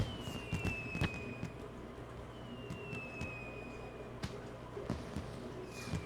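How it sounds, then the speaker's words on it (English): Fireworks in the video game Final Fantasy XIV go off as a series of sharp pops and crackles, with several whistling rising streaks between bursts, moderately loud over a soft game background with no talk. "And I like fireworks."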